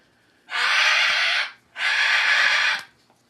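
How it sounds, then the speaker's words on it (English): A pet bird lets out two long, harsh squawks in quick succession, each about a second of loud raspy noise close by with a brief pause between them. "my bird is voicing his opinions very strongly worded squawking"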